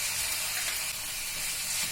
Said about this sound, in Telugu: ఫ్రై చేసిన చికెన్ ముక్కలను కూడా దీనిలో యాడ్ చేసుకొని ఫ్రై చేసుకోవాలి.